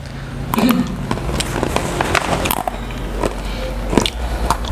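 Crunchy pumpkin stick snacks are bitten and chewed close up, with repeated crisp cracks and crackles over steady background noise and a voice talking lightly.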